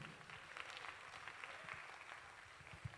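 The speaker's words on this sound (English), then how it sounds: "Round of applause, ladies and gentlemen" Audience applause at a nutrition conference performance, a faint, steady patter of clapping from a distant crowd that runs evenly without a break.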